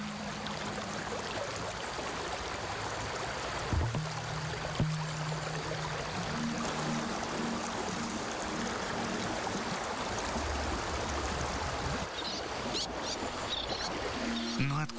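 Broad, steady rush of a swollen, rain-flooded river flowing at high volume, loud and continuous throughout with faint low tonal hum underneath and no voices.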